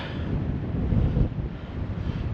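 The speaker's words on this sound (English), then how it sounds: "it suddenly got quite chilly and quite windy" Wind gusts buffet a GoPro Hero 12 microphone outdoors on a chilly, windy day, producing a loud, steady low rumble that swells and eases slightly across the short span.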